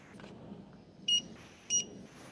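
A ScripTalk talking label scanner gives two short, clear electronic beeps about half a second apart, close by over a quiet room background.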